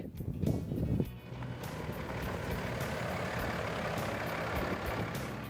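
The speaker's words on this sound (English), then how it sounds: "Here comes my little buddy Darrell in his big truck" A big truck arriving outdoors at a hunting spot in South Dakota, its steady broad engine rumble and road noise rolling in continuously after a brief rustle at the start.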